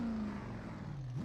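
An SRX race car in the iRacing simulator, its engine note droning and shifting pitch as it drives, heard faintly and alone for a brief moment.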